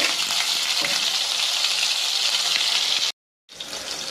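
Ginger garlic paste sizzles loudly in hot oil with mustard seeds for a native chicken kurma, a steady bright frying hiss that cuts out briefly before resuming.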